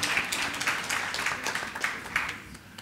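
Scattered hand clapping from an audience at a political party congress, soft and somewhat distant, with irregular claps rising and fading over a few seconds and no voices.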